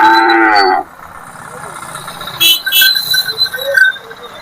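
Bull at a busy livestock market gives one loud, close moo, followed by a low background of crowd murmur, scattered calls and faint engine idling.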